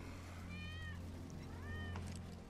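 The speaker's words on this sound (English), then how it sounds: "That's Wedge's cat." Two plaintive cat meows in the Final Fantasy VII Rebirth video game, each rising then falling, faint over a low steady hum with a soft clunk between them.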